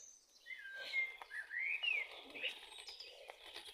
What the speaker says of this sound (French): Punaise, il y en a des oiseaux.